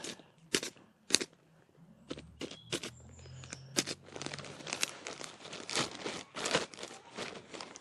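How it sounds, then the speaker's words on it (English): Crinkly plastic grow bag rustles as scissors prick drainage holes, a run of sharp little pops and snips, close and fairly quiet, irregular at first then denser. "if you use scissors, prick some drainage holes"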